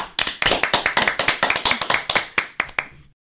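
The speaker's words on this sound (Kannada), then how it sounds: "ಅವರಿಗೆ ಚಪ್ಪಾಳೆಯೊಂದಿಗೆ ಸ್ವಾಗತ ಮಾಡ್ರಿ" Children clapping to welcome a guest in a small room, a quick burst of sharp, close hand claps in a loose, fast rhythm that fades out after about three seconds.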